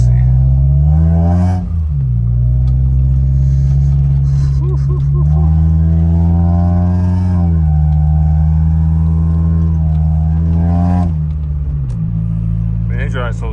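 A Honda Integra Type R engine hums at a steady drone while driving at night, rising with a couple of revs and gear changes, heard from inside the car with someone talking over it.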